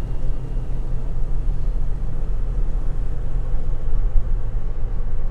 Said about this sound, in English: Driving off into the sunlight.